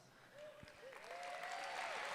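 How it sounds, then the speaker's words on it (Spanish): A church congregation applauds, faint and distant, a soft sustained clatter of many hands with a voice rising over it. "Démosle un aplauso"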